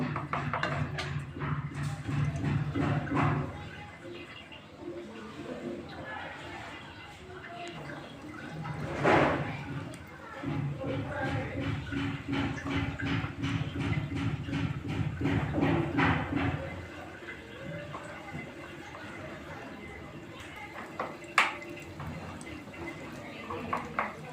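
Egg-coated potato chops frying in hot oil, a soft bubbling and crackling sputter that swells and fades near the pan while a person talks over it.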